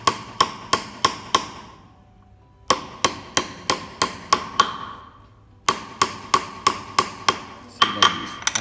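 A small tool is struck sharply in quick bursts of four to eight evenly spaced blows while a design is carved freehand into a wooden Tarkashi box, each hit a bright close knock followed by a short pause between runs.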